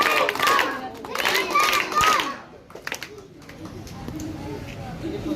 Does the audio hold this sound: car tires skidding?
no